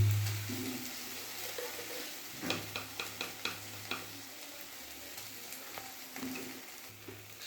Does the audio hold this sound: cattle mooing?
no